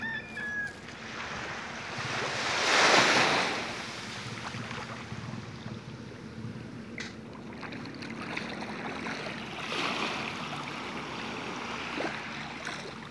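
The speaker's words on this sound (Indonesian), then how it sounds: "Cukup tenang ombaknya." Calm sea waves in the bay at Teluk Kabung, Padang, West Sumatra, washing gently under a steady bed of wind noise, with one fuller surge of water early on and softer swells after.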